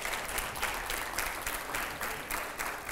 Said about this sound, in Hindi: जरा जोरदार तालियां हो